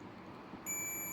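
A multimeter continuity buzzer beeping while testing a shorted regulator on a Panasonic LED TV board; a faint steady high tone starts partway through and holds to the end over quiet room noise.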